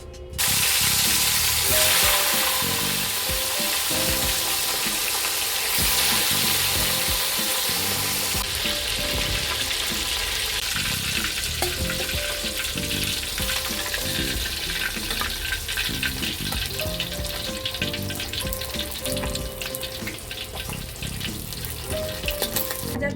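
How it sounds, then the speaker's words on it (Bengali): Oil heating and frying in a wok (kadai) for rohu fish, a loud, steady sizzling hiss that fills the whole stretch without letup, close to the pan and with no voices. "মাছ ভাজার জন্য আমি পরিমাণ মতো তেল দিয়ে দিলাম কড়াইয়ে"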